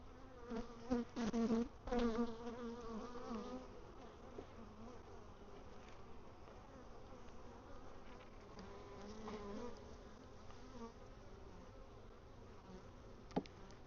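Honey bees hum in a dense, continuous drone during a hive inspection after a honey harvest, a loud swell near the start settling into a steady buzz throughout.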